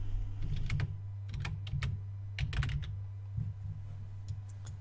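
Typing on a computer keyboard while entering text into a spreadsheet cell: bursts of close, crisp key clicks in uneven clusters over a steady low hum, no speech.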